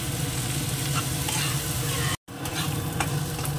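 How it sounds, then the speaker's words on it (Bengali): Onions fry in a pan with a continuous sizzle while being stirred, scraping and clinking strokes over the hiss, with a brief dropout partway. "পেঁয়াজটা একটু লাল করে ভেজে নিতে হবে"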